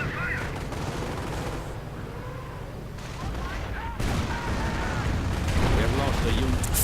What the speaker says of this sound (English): MG here. Fire here. And there we go. Another man dead. 74 kills. Got some Nebelwerfer rockets.